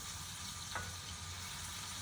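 Chopped bacon frying in a pan for chicken and shrimp bucatini, giving a steady, even sizzle with a soft stir-like swish partway through, no voices.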